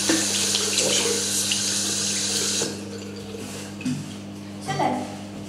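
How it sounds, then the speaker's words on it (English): Running tap water in a bathroom sink while hands are washed after brushing teeth, a steady close rush that drops sharply in level about halfway through as the flow is reduced, with brief splashes afterward. "And then always wash your hands after."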